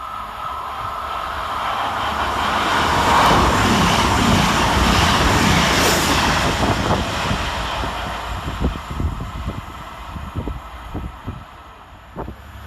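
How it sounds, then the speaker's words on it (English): CrossCountry Voyager diesel train 221121 passing fast through New Milton station, a loud rushing roar that swells and fades, followed by rhythmic clacking of wheels over rail joints as the carriages go by. "Passing next fast through the station is 221121, working 1 bike 50 for cross country from Bournemouth through to Manchester Piccadilly."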